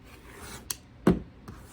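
Trimming a fabric half square triangle along a ruler with a rotary cutter: a few brief, quiet cutting scrapes spaced apart, close by and without speech.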